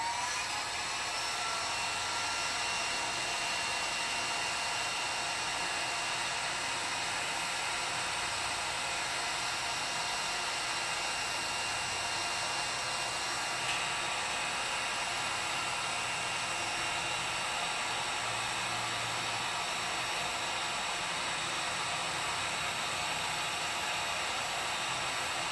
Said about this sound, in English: this heat gun has a reflector on it that's supposed to reflect the heat back to the other side